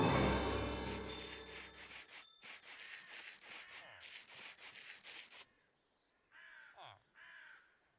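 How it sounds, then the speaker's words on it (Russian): Sandpaper rubbing against stone in the Minecraft Create mod: a run of rhythmic, rasping scraping strokes that repeats steadily, then gives way to a few softer, higher scratchy sounds. "Я беру камень. Я беру наждачку."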